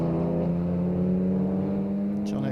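Mini Cooper race cars lapping the Snetterton circuit, a steady loud engine drone holding one pitch throughout with no clear pass-by or pause.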